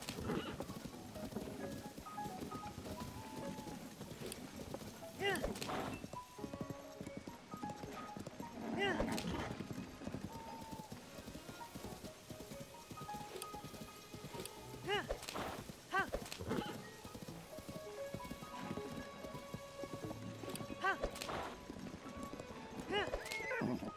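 Horse hooves clip-clop steadily with occasional whinnies in Zelda: Tears of the Kingdom, under a voice talking and background game music.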